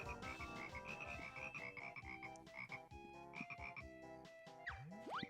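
Repeated frog croaks in Banjo-Kazooie, a busy run of close, loud video game croaks layered over bouncy music with rising and falling tones.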